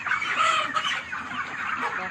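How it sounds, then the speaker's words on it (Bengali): Broiler chickens at a poultry farm being lifted for transport cluck and squawk in a busy overlapping chorus, many birds close by and continuous. "দেখো সব একটার পর একটা মুরগি, এগুলো সব চলে যাবে আজকে।"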